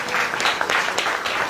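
Church congregation clapping in thanks to God during a Hindi sermon on salvation; dense, steady applause from many hands filling the short moment without speech.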